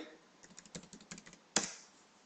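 Quick typing on a computer keyboard, about a dozen light clicks ending in one louder keystroke, close and faint with no voice.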